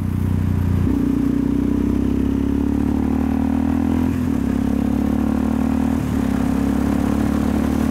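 A modest-powered motorcycle engine while riding on a country road, a loud, steady drone close up that holds a constant pitch with brief dips as the throttle eases, with no talking.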